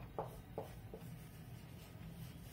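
Pen or pencil writing by hand in a notebook during a maths lesson, a few short scratchy strokes near the start, then quiet soft rubbing against a faint room hum.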